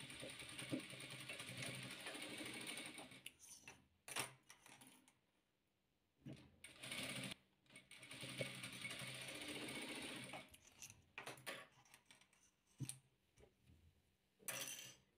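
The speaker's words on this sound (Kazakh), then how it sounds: "Енді қалған екі жасыл шаршымызды екі қызыл шаршымызға қосып тігеміз дәл мындай қылып." A sewing machine stitches fabric patchwork squares, joining green and red pieces, in loud rapid bursts of whirring stitches separated by short pauses, with no talking.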